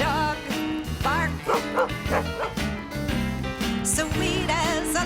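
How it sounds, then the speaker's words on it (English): A big dog barks repeatedly in a children's song, with the woofs and yips mixed into bright, busy music. "I want to sigh to hear a big dog bark"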